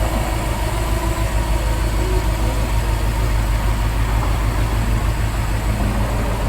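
A Subaru WRX STI with a stage 3 setup idles after a clutch replacement, a loud, steady low rumble close by with an even mechanical drone and no talk over it.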